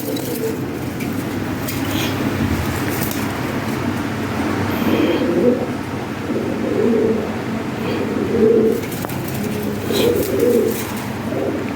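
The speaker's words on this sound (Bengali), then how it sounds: "ঠিক আছে ভাইজান অনেক সুন্দর কবুতর" Lahori and Sirazi pigeons coo in low, rolling bursts that repeat every second or two over a steady background hum, fairly close and moderately loud.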